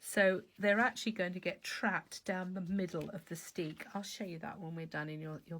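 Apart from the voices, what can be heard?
No distinct noise like a dog, phone or traffic.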